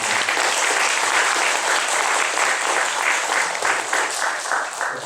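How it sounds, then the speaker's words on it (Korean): A church congregation applauds during a worship service to welcome a guest, giving a steady, full round of clapping from many hands that holds throughout with no talk over it. "박수로 한번 환영해 주셔서"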